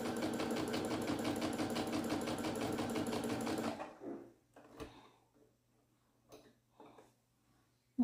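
A sewing machine stitches fabric in a fast, even run for nearly four seconds, then stops, leaving a few soft clicks and handling taps from the fabric and machine.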